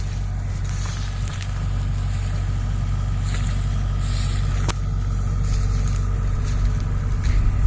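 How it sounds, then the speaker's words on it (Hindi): Chain pulley harvesting machine cutting paddy rice in a field, a loud, steady diesel engine drone with a continuous low rumble and faint clanks, close and unbroken throughout. "बिलटा ओदा अच्छी से चेन पुली मेसीन रे कटा हो"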